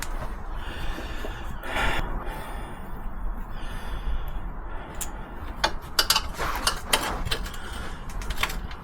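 A ratchet tightens the swing arm bolts on a VW Polo 6N2 during gearbox removal and clutch replacement, giving faint clicking bursts and metallic ticks against a quiet workshop background.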